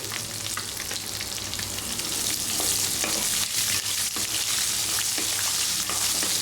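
Onions and green chillies frying in oil in a pan, a dense continuous sizzle with frequent stirring clatter, close and steady throughout, no voices.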